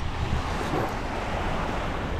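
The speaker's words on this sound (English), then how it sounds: "but it's windy." Steady wind roars across a small beach alongside surf, a continuous broadband rush that stays loud and even throughout with no voices.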